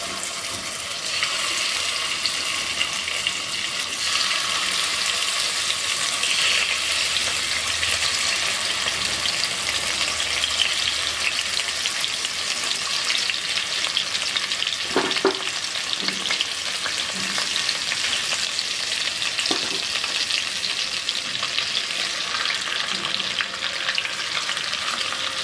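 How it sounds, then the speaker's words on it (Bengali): Hilsa fish pieces frying in hot mustard oil in a kadai make a steady, close sizzle with no talk, and occasional sharp clicks and splashes sound partway through. "এবার আমি মাছগুলো ভেজে নেব।"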